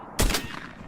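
A single sharp gunshot-like blast from a video game erupts out of near silence, loud and close, then fades into a brief ringing tail.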